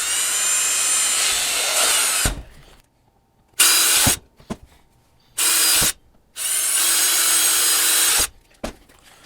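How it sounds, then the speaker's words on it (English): A power drill boring 1/4 inch holes into a motorcycle rear fender for a Goldstrike fender extension kit, loud close whirring in four separate bursts with short pauses between them. "So we'll drill 1/4 inch hole."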